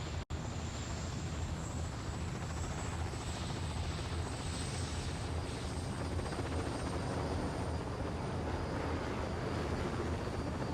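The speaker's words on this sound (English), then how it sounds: "Follow that chopper." A helicopter in the Destroy All Humans video game flies steadily overhead, its rotor and engine roar constant and loud throughout, with no voices.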